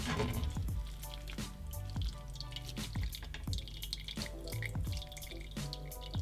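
Whey drains from squeezed curds for Middle Eastern clotted cream, falling in a steady run of close, clear drips and small splashes with a continuous trickle underneath and no talking.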